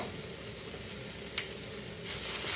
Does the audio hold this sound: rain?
no